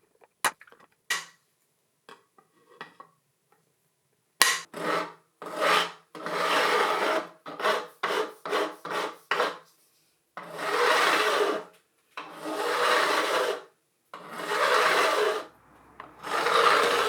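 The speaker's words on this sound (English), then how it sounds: "After filing the initial bevel in" A file rasps a bevel into the fret ends of a custom multi-scale Strat guitar, a few scattered scrapes at first, then a run of short strokes and several long, even passes, close and alone.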